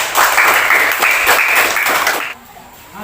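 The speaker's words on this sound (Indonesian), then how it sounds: "Oke, tepuk tangan buat kelompok 3." A classroom claps for group 3 in a lively burst of applause lasting about two seconds, then cuts off abruptly into quiet room tone.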